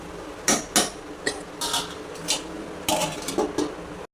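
A spatula stirs snake gourd stir-fry in a pan, giving a scattered series of light metallic clanks and scrapes at a close, moderate level with no talking.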